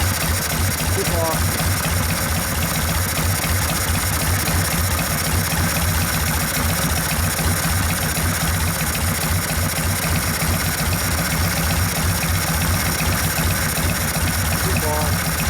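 A rebuilt 1972 Harley-Davidson Ironhead Sportster engine idles after warming up, a loud, steady, unbroken rumble throughout with no pauses.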